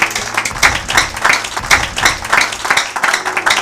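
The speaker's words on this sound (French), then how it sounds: "Acclamez pour la gloire de Jésus-Christ." A church congregation claps along in a steady rhythm for the glory of Jesus Christ, many hands together, loud and close, the beat holding even throughout.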